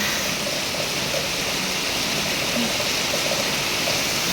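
Heavy rain falls steadily over open rice fields with wind, a dense, constant hiss that never lets up.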